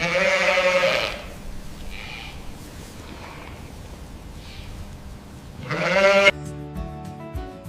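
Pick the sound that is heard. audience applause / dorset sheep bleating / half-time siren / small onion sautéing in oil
dorset sheep bleating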